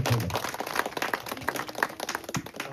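Wedding guests clapping together at an engagement celebration, a steady, dense patter of many hands that carries on throughout, moderately loud and fairly close, with no clear talk over it.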